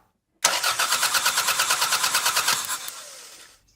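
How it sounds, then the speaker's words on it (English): A car engine cranks over on the starter during an ignition spark test on a no-start engine, a loud, steady rhythmic chugging of about fifteen even pulses that fades out near the end with no catch. "I'm going to get someone to crank the engine"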